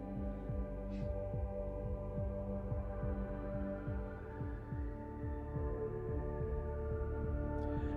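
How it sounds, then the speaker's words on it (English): Steady heartbeat on an album track, a low rhythmic double thump repeating evenly for several seconds beneath a faint hum, fairly quiet. "The heartbeat's kind of badass."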